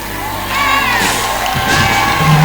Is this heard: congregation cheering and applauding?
yes